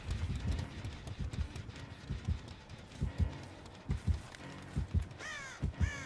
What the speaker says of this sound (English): Shh, be quiet, birds.